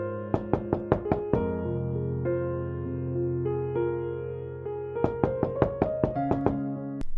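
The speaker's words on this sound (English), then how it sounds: "there's a knock at the door" Door knocks from a low-budget Halloween horror movie, two bursts of about six quick raps each, loud and close over a sustained musical score.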